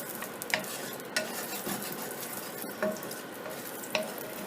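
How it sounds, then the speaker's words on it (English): Bacon drippings sizzle steadily in a frying pan, a dense, constant crackle with a few sharper pops and spatters standing out over the hiss. "And you want to hear that little sizzle."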